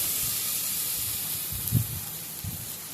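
Onion and ginger-garlic paste frying in a pan for a Bata fish curry give a steady soft sizzle and hiss throughout, with a couple of brief low bumps from stirring.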